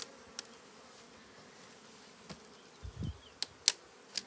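Honeybees buzz at an opened hive as a faint, steady hum with a few sharp clicks and knocks from the hive parts being handled. No speech.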